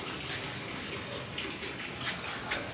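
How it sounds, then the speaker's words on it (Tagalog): Steady running water streams into a container for storage, a continuous splashing rush with faint clinks and no voices. "Nag-iipon ako ng tubig mga kabibilag kasi minsan walang tubig."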